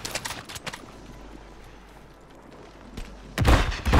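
Gunfire in a Call of Duty: Warzone match: a few sharp shots early on, a quieter stretch, then a louder burst of rapid fire near the end.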